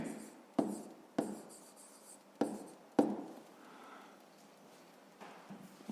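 Pen or pencil writing out 5th-grade math homework by hand, close and quiet, a series of sharp taps and short scratchy strokes at irregular intervals, with soft scribbling between them.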